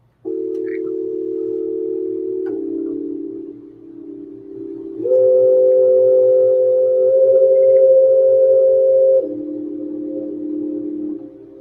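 A warbly tape-based keyboard, played through echo and an amp, holds loud sustained notes that step up and down in pitch, with no talking.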